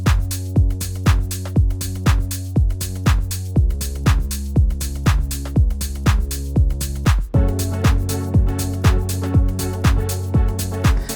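A house beat with chopped FM bass and drums pounds out a steady four-on-the-floor pulse, with punchy kicks, hats and short rhythmic bass stabs that change pitch midway, loud and up close with no voices.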